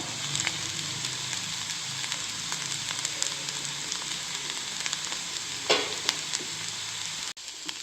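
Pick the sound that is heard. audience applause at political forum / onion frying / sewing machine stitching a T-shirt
onion frying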